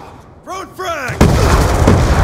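A frag grenade going off in Black Ops 2: a shouted voice call comes first, then a sudden loud blast that rolls into a sustained rumbling roar to the end.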